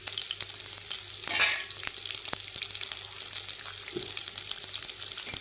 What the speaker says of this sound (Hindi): और अब मैं इसको फ्राई कर दूँगा, हल्की हल्की फ्राई करनी है।